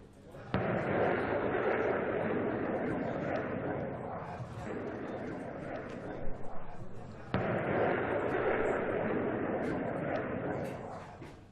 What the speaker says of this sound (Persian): در نخستین عملیات رزمایش ناو هواپیمابر فرضی هدف اصابت 4 فروند موشک قدرتمند ساحل به دریا قرار گرفت